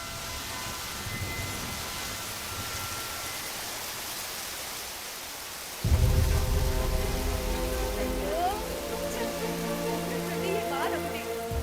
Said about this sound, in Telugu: ఈ వాన ఒకటి.